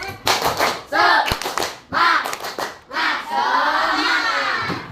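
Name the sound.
children doing a rhythmic clapping cheer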